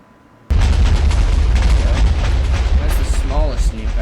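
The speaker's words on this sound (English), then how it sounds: "the smallest of the 3 nukes, the nuclear depth bomb, which this will take a while to explode." A nuclear depth bomb from a video game mod goes off in one sudden, massive boom that rolls into a long, heavy rumble. A voice talks over the blast.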